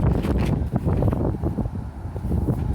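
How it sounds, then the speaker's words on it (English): Strong wind buffets the microphone outdoors beside a barbecue grill, a loud, constant rumbling roar that surges and dips without a break, with no voices. "The wind is wreaking havoc on me today."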